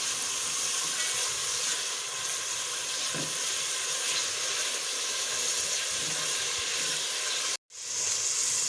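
Continuous loud sizzle of green chili and cashews being mixed in a hot pan for chicken malai handi, a bright, dense frying hiss that holds steady, with one brief cut to silence near the end.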